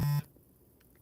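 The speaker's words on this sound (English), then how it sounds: "And that was my phone, sorry." A mobile phone gives one short buzzing notification beep up close, cutting off quickly into near silence.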